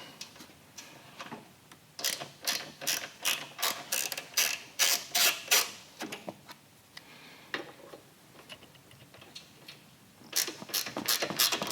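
A ratchet tool loosening the riser clamp bolts on a Harley-Davidson Road Glide ST, giving rapid bursts of sharp clicking pawl strokes close by, pausing midway before a final quick run of clicks.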